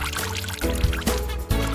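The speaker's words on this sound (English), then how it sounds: "And you've got your own mini sprinkler." Water trickles and dribbles from a homemade plastic bottle sprinkler with rows of cut holes, a brief uneven pouring sound with small splashes, close by and alone.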